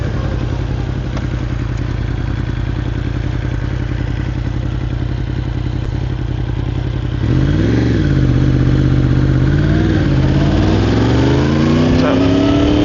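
A Yamaha R1 RN65 motorcycle engine drones steadily and loud while riding, then shifts in pitch as the rider changes speed and the revs rise and fall.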